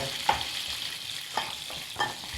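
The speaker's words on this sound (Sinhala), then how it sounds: "තව දිනවා දෙපාර කරනවා මස් එක බදින්න දෙපාර බදින්න." Meat frying in a pan keeps up a steady sizzle, punctuated by three sharp clinks and scrapes of a utensil stirring it, close by with no talking.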